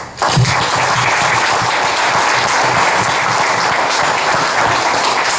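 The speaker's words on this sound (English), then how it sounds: "So we'd like to give them a round of applause for that." Loud, dense applause from a crowd at a San Juan city commission meeting for a first-place winning team with their trophy, starting abruptly and holding steady and close.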